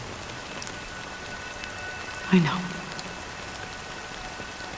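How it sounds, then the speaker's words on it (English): Steady light rain patters continuously in the background of the video game Honkai Star Rail, with one brief soft thud partway through and a short spoken phrase. "But it's still raining."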